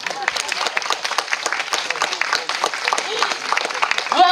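Audience applause at a parrot show at Amnéville Zoo, a scattered, uneven patter of clapping with a few louder claps, lasting the whole stretch.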